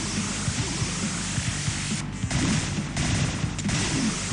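Cannons in a Sega game firing a rapid, dense barrage of noisy blasts, continuous and harsh like static, loud and close with brief gaps between bursts.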